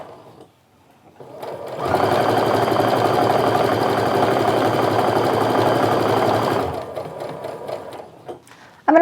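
A sewing machine stitching quilt pieces runs loud and close in one continuous burst of about five seconds, its rapid needle chatter holding steady before stopping abruptly, with quiet handling noises before and after.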